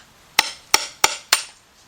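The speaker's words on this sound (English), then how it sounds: "You want to place the screwdriver right between, just like that. Then take your hammer." Four sharp metallic hammer blows land in a steady rhythm on a screwdriver to punch a hole during a timing chain replacement on a GM engine, each strike loud and close with a short ringing decay, no talk.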